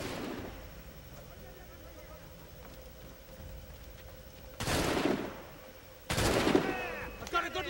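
Gunfire from shooting enemies in a video game, heard as two loud broadband bursts of rapid shots a little over a second apart after a quieter stretch, with more shots starting at the end.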